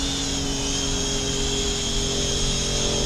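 A GoolRC CSJ S171 mini quadcopter hovers close by, its tiny rotors giving off a steady, high, whining buzz at a constant level throughout.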